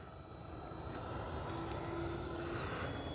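An FMS Yak-130 70mm electric ducted-fan RC model jet flies at about 40% throttle, its steady whooshing drone holding at moderate distance throughout, with no voices.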